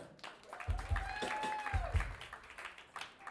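A concert audience claps for a performer being introduced at a birthday concert, a moderate spread of applause with a sustained tone ringing over it, fairly soft and brief.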